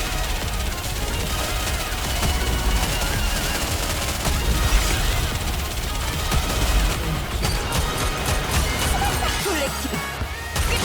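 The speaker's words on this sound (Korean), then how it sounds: "목표 전방 일제 사격" Volley gunfire from a squad in the game Nikke rattles continuously at close range, dense overlapping shots and crashing impacts filling the whole stretch with little pause.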